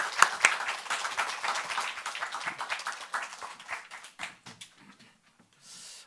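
A church congregation at an autumn revival service claps for a visiting pastor, a dense burst of hand claps that gradually thins into scattered, fading claps and falls silent.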